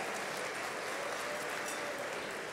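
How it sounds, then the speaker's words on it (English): Audience applause at a fellowship dinner, a dense, even roar of many hands clapping that holds steady at full volume for the whole stretch. "So let's give them a round of applause for their contribution to tonight's illustrious event."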